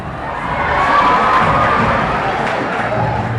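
A crowd at a children's primary-school bodybuilding contest cheers and shouts loudly and steadily, with children's voices mixed into a continuous roar that holds throughout.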